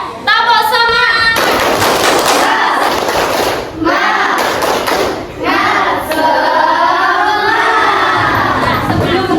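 A primary school class does a rhythmic tepuk semangat clapping chant, loud and near: sharp bursts of group claps broken up by children's voices shouting and chanting along in a classroom.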